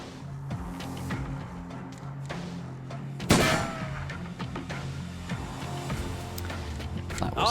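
A single sharp gunshot from the turn-based tactical game Urban Strife, a headshot fired during a squad turn, bursts out once over a low game soundscape, with players chatting around it.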